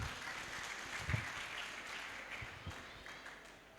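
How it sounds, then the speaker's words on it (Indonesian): A church congregation at a Christmas celebration claps together in a soft, fairly distant round of applause that tapers off over a few seconds. "Boleh tepuk tangannya Bapak Ibu."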